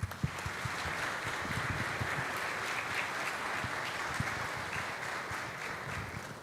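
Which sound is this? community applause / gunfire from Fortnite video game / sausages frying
community applause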